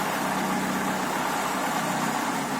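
A car engine fitted with a second-generation natural gas (GNC) conversion kit idles steadily while the gas regulator is adjusted, giving a continuous close, even hum with no voices.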